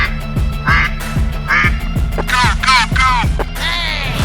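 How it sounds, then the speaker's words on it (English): A duck quacks loudly and repeatedly over bouncy children's cartoon music, its nasal calls coming in quick bursts near the end, alone without any talking. "This is a duck."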